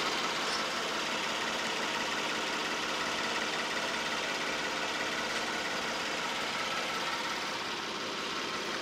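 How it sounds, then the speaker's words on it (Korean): A Kia K9 (The New K9) large luxury sedan with low mileage idles with the hood open, giving a steady, smooth engine hum at close range with no talk over it. "우선 엔진 소리 한번 들려드리도록 하겠습니다."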